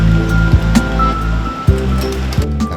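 The fast-flowing Cisadane river current, a loud continuous rushing roar of churning water close by, with a few soft thumps and splashes breaking through.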